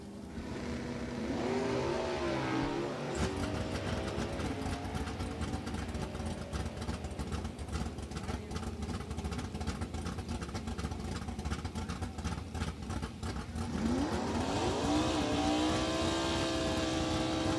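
A 1972 Dodge Challenger, early body style fitted with a late model 360 Mopar V8, runs loud and steady at a drag strip, its engine note rising at the start and surging again near the end.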